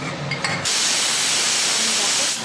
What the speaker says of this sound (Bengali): ভাজা ভাজা হয়ে গেলে একটু জল দিয়ে প্রেশারে দুটো সিটি মেরে দেবো